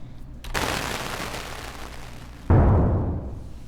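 A synthesized firework made in Reaktor 6: a short initial pop, a long hissing burst, then a heavy booming blast that rumbles and fades.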